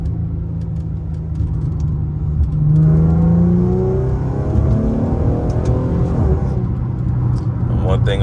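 A tuned Infiniti G37 engine revving hard, its intake breathing heavily: a loud, steady throaty drone that rises and swells in pitch, then holds a rumbling roar, with a voice talking over it.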